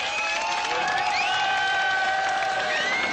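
Crowd applause and cheering at the Berlin Wall as East and West guards meet, a dense wash of clapping and voices with a sustained whistle-like tone over it, steady throughout.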